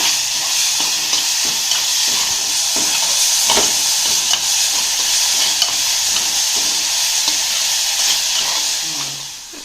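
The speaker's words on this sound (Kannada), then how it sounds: "ಇದ್ರಾಗ ಫ್ರೈ ಮಾಡ್ತೀನಿ" Steady loud sizzle of frying in hot oil for kuchida khara, a North Karnataka spicy dish, with bright continuous hiss and occasional stirring clinks, no talk.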